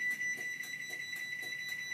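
A Craftsman AssureLink garage door opener sounds a steady, rapid series of high-pitched warning beeps while the door closes, clear and evenly spaced over a faint mechanical hum.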